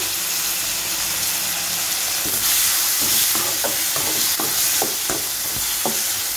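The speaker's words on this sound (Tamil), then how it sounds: "தக்காளி ஆட் பண்ணிக்கலாம். கூடவே உப்பு சேர்த்துக்கோங்க." Chopped tomatoes and salt go into a pan of softened small onions for chutney, bringing a loud steady sizzle and frying hiss with a run of scraping stirs in the second half.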